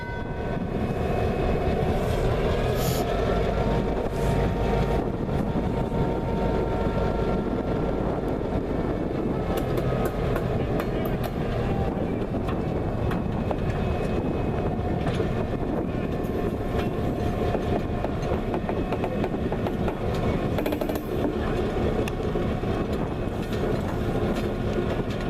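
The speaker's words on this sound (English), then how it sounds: "After everything was ready to go, Engine 2628 backed up along the main line towards the Pep-Up plant in Frankford" Locomotive Engine 2628 backs along the main line, a continuous loud rumble of diesel engine and rolling wheels with rhythmic clickety-clack over the rails, steady and close for the whole stretch.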